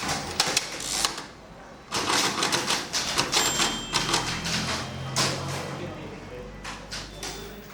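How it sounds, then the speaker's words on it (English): A braille writer is typed on quickly, giving rapid clusters of sharp mechanical key strikes with short pauses between bursts, close and clear, while voices murmur softly in the room. "This brailer is a very expensive machine. We have 4 of them. You can see how fast he's typing that."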